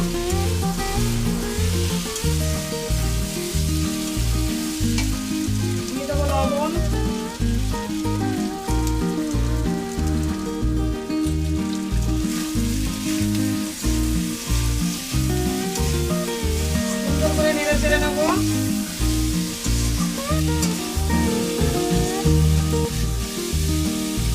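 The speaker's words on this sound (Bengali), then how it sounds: "দিয়ে দেবো লঙ্কা বাটা এবার নেড়ে চেড়ে নেব সুন্দর করে একটু কষিয়ে নেবো" Chili paste, fish head and cabbage sauté in a pan for a Bengali ghonto, giving a continuous close sizzle that runs the whole time beneath rhythmic background music.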